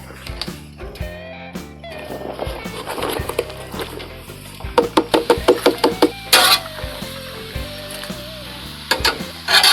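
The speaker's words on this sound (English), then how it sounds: "I'm gonna put them on the Blackstone here and just do a simple stir fry" Vegetables stir-frying in olive oil on a Blackstone griddle outdoors at a campsite, a steady sizzle broken by a quick run of rhythmic scraping and tapping of a spatula against the flat top, with faint talk at times.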